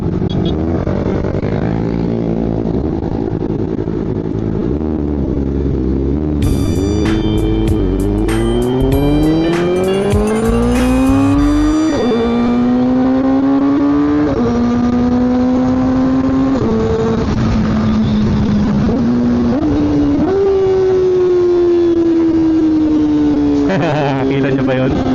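A Kawasaki ZX-4RR motorcycle being ridden is loud and close. The engine note climbs repeatedly as it revs up through several gear changes, then holds a high, steady whine.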